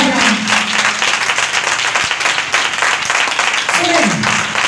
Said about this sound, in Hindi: आओ यीशु के लिए जोरदार तालियां बजाएंगे, जोरदार तालियां यीशु की इज्जत के लिए